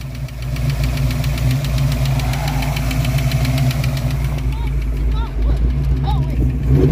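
A Ford Mustang engine idles and revs with a loud, continuous mechanical rumble and a rhythmic ticking knock in the top end, and voices talk faintly near the end.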